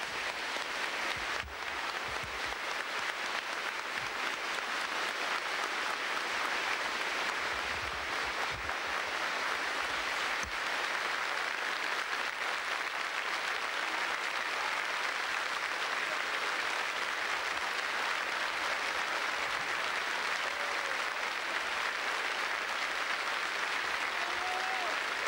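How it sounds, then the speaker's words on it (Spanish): A large crowd outside a town hall gives a long, continuous ovation as a coffin is carried out at a racing driver's funeral, heard from a distance as a steady rain-like roar. "Este tremendo aplauso que nos enmudece en el momento en que el féretro salió de la municipalidad"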